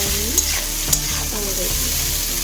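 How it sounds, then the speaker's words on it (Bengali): Chow mein being stirred with a little salt in a hot frying pan, with steady sizzling under repeated scraping, tossing strokes close up. "এটা আবার একটু নুন দিয়ে নেড়ে নেব"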